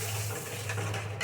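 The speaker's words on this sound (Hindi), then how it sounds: "तो मसाले मेरे पक चुके हैं तो मैं डाल दिया है यहाँ पे 1 गिलास पानी" Water from a glass pours into a pot of cooked spices on the stove, a steady close splashing rush that runs throughout without talk.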